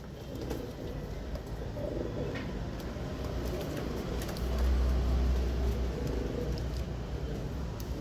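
A pair of red copper breed pigeons coos softly and steadily up close, low throaty calls repeating over a constant background hum, with a faint passing car in the distance.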